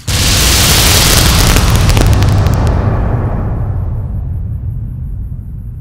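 A loud explosion in the video game Fallout New Vegas bursts at once and then rolls off into a long fading rumble.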